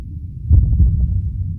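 Low, muffled heartbeat-like throbbing, dull and heavy, forming one continuous thudding swell rather than crisp separate beats, loud and close with no talk.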